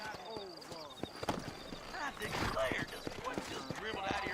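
Horse hooves clip-clop in a steady rhythm in the Red Dead Redemption game, set in a frontier town in New Ulster, with a voice talking over the hoofbeats throughout.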